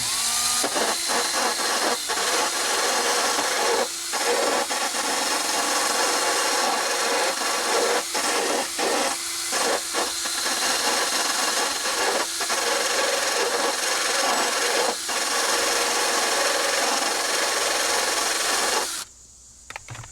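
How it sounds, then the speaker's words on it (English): Continuous loud grinding and rasping of a power drill working on a metal door hinge pin, with brief pauses and scrapes, ending abruptly near the close. "And I'm taking my drill right now. I'm doing the bottom hinge"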